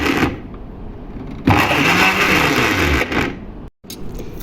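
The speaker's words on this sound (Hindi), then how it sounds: "अब मैं इसे ऐसे ऐसे ग्राइंड कर लेती हूँ।" A kitchen mixer grinding a vermicelli ice cream mixture with condensed milk, a loud whirring motor that starts, stops, then surges again in bursts, close by and alone.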